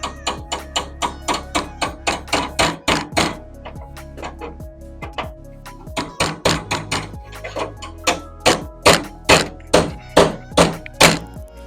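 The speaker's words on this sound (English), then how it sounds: "So I'm going to see if I can just gently tap that round." Repeated hammer-and-dolly taps on sheet metal while shaping a wheel arch tub for a Mk1 VW Caddy, a steady run of sharp, close metallic knocks in rhythmic bursts with brief pauses, growing louder toward the end.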